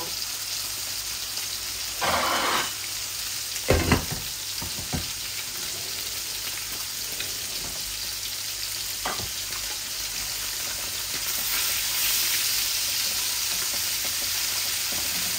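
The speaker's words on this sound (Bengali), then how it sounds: "আমি একটু জালটা কম করে নেই, কারণ আমার মাছ ভাজিটা হচ্ছে" Tilapia frying in oil in a pan over lowered heat, giving a steady broadband sizzle throughout with a few louder crackles and spits near the start and a slightly fuller hiss toward the end.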